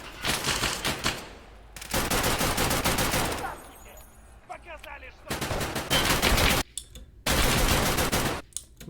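A gunfight in the video game Escape from Tarkov Arena: loud, dense bursts of automatic gunfire broken by short pauses, with scattered single shots and faint clinks between volleys.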